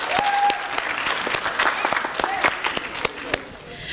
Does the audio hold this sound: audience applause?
yes